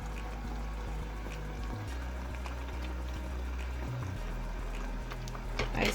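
Continuous low bubbling and simmering of liquid, steady throughout with small pops and a low hum underneath.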